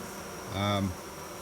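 Honeybees at an open hive, freshly smoked across the top, give a close, loud droning buzz that swells for a moment and then eases back into a quieter background hum.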